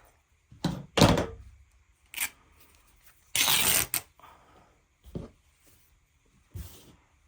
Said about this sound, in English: I have some torn fabric. That's too thick. Let me rip that in half.